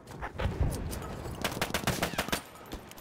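Kolibri pistol fired in a video game: a handful of sharp, close shots snapping out in an uneven cluster over a busy background.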